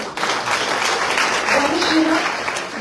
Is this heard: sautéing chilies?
no